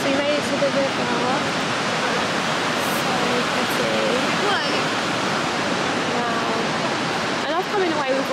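A river flows with a steady broadband rush of moving water that runs unbroken throughout, while people talk softly over it.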